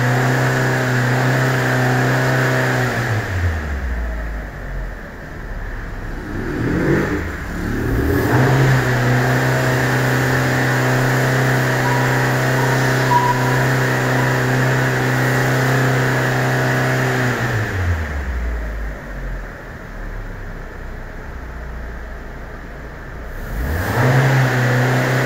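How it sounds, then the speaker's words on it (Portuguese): A Fiat Fiorino 1.4 engine with a P0016 correlation fault is revved for diagnosis, climbing from a steady idle to sustained high revs, dropping back, then revving again, loud and close with no talking. "Essa aceleração que eu estou fazendo agora é para medir o porquê que está dando esse P0016, falha de correlação."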